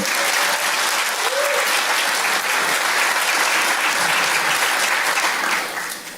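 A church congregation breaks into loud, sustained applause, dense clapping from many hands filling the space and fading slightly toward the end.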